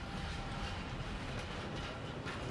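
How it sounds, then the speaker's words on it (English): A streetcar rolls into the platform with a low, continuous rumble and faint rail clatter. It sounds moderately distant and quiet, and nobody talks. "Here's the train now."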